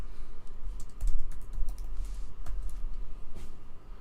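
Keys clatter steadily on a computer keyboard as a command is typed, with close, rapid clicks over a low background rumble.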